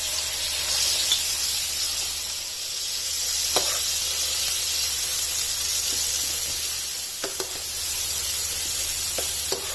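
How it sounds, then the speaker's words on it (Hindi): Chicken pieces fry in two tablespoons of olive oil in a pan, giving a steady bright sizzle and hiss throughout. A few faint clinks and stirring sounds rise over it now and then. "इसका कलर चेंज होने तक इसे इसी ऑयल में इस तरह से कुक होने देना है।"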